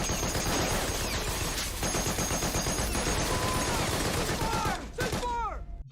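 Heavy battle gunfire from the WWII drama The Pacific, a loud continuous fusillade of rifle and machine-gun shots with shouting mixed in, ending with a few whistling, descending tones before cutting off.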